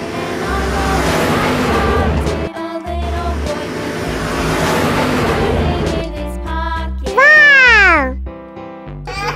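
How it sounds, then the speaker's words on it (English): A cartoon double-decker bus rumbles with a low, throbbing engine drone that idles and revs in steady bursts, broken by short gaps, then ends with a sweeping, horn-like tone that rises and falls. "Double decker bus."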